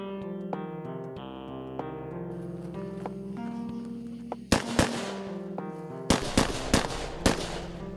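Rifles fitted with Crimson Trace LiNQ systems fire sharp, loud reports at an outdoor range, several shots with sustained ringing between them and clusters of rapid blasts toward the end.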